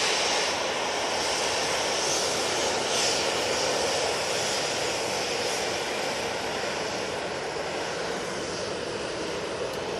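A Ryanair jet airliner departing for Cork on a sunny morning at Manchester Airport, its engines producing a steady, moderately distant broadband roar that holds evenly throughout.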